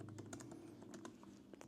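Soft haptic clicks from the trackpad of a new iPad Pro 11-inch Magic Keyboard, a rapid run of light taps heard up close with no speech.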